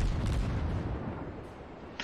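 Enemy ship guns firing in the naval combat game World of Warships, a dense run of heavy booming blasts and rumbling concussions, loud and continuous, followed by a sharper burst near the end.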